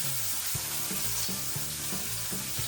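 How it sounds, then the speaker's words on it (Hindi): Cumin seeds sizzling and crackling in hot oil in a home Indian kitchen, a steady close frying hiss with faint periodic stirring or scraping pulses underneath. "तेल गरम हो गया, जीरा डाल दिया।"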